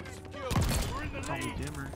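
Sniper gunshot in Call of Duty Vanguard, a sharp loud report about halfway through, followed by ringing game effects and background noise.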